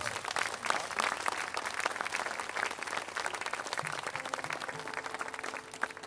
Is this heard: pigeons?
no